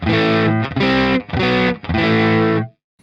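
Four bright, crunchy distorted electric guitar chords with the tone knob turned all the way up, each sustained and cut off sharply, followed by a moment of silence at the end.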